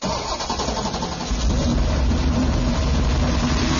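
A 9.3-litre tuned V8 road car engine cranks and fires, then settles into a loud, deep, continuous rumble close by, with no voices.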